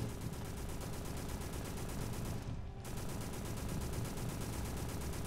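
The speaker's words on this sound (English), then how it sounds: "Stop shooting, it's loud as fuck." Continuous rapid gunfire in a horror video game, loud and dense, hammering on without letup apart from a brief dip in the middle, with no talking.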